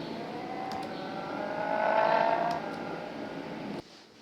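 A race car engine in the video game Mzansi Racing whines steadily, swells louder as it revs, then eases back before cutting off abruptly near the end.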